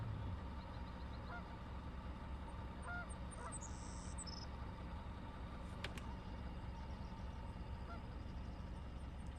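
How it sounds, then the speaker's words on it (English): Hundreds of geese honk in scattered calls over a steady, distant background hum at Tule Lake National Wildlife Refuge, California, with a few sharper honks rising above the flock. "Hundreds of geese."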